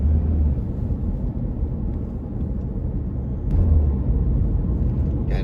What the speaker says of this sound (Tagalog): truck ng basura